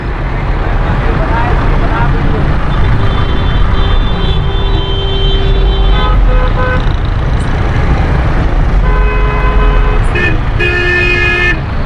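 Congested city road in Pakistan with car and bus horns honking repeatedly over a constant loud rumble of engines and traffic, heard from a motorbike, with people talking now and then.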